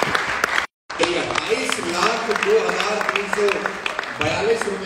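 An audience applauds at a Vestige anniversary gathering in Thailand, a dense patter of many hands clapping. A loud amplified voice speaks over the applause, with a brief cut early on.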